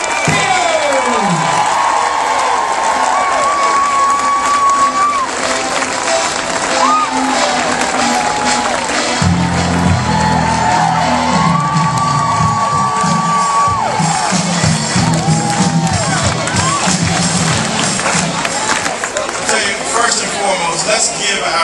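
A rally crowd cheers, whoops and applauds for keynote speaker Stephen Peters, a loud sustained roar with shouts rising and falling throughout, voices prominent over the clapping.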